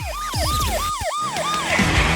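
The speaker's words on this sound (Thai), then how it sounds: "ฉันเพิ่งเปิดเสียงไซเรน" A car siren wails, sweeping up and down in quick repeating cycles, loud and close, with no one speaking.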